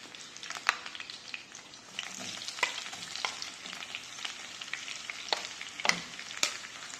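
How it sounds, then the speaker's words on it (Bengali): Onions sizzle steadily in hot mustard oil for mung dal, a dense close frying hiss broken by a few sharp stirring clicks and scrapes throughout. "এখন দিয়ে দিচ্ছি পেঁয়াজ"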